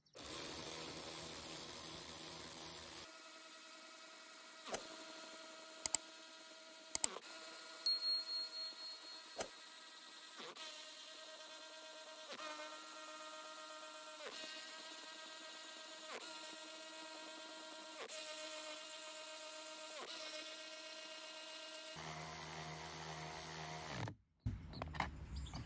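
A Parkside cordless ratchet tightens a row of nuts one after another, its steady motor whir running continuously with brief clicks and knocks as it moves between nuts, loud and close with no talking.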